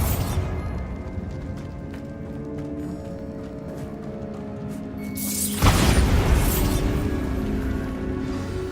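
Bombarda spell from Hogwarts Legacy blasting apart a barricade: a sudden loud, deep boom bursts out partway through, then rumbles on over a steady bed of game ambience.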